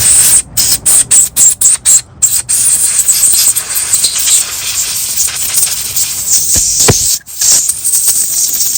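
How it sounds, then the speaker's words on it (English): Short bursts of compressed air blow off a small two-stroke carburetor, first a rapid series of sharp hissing blasts, then a longer steady rushing spray close by, with no talking. "And then now just take some compressed air"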